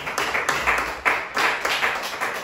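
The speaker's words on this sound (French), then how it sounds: "Acclamons pour le Seigneur" A church congregation applauding together, steady rhythmic clapping that rises and falls in waves, fairly close and with no voices over it.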